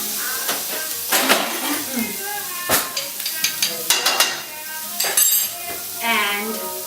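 Garlic stirred in a hot pan, with soft sizzling and a run of clinks and scrapes from the utensil, under a person speaking.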